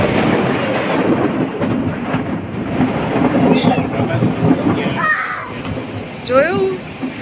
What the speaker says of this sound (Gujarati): સાંજના 6 વાગ્યા છે ને વરસાદ ફૂલ ચાલુ થઈ ગયો છે